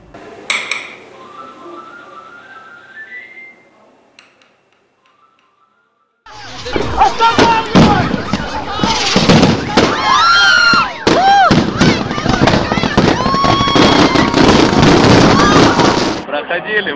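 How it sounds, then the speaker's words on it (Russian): New Year's night fireworks in Samara. After a quieter opening, loud dense crackling and rapid popping bangs burst out and keep going steadily, close by, for about ten seconds. "Ходили, вот фейерверк,"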